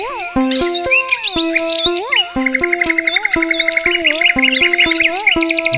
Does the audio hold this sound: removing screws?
no